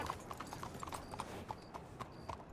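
Horse hooves clip-clop in a video game at a steady walking rhythm, faint but distinct, with a low ambient background.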